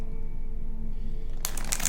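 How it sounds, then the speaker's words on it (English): Tarot cards shuffled and moved by hand, a soft low papery rustle running throughout that turns into brighter, sharper riffling near the end, with no talking. "I know you guys sometimes like to see the cards being shuffled, being moved around"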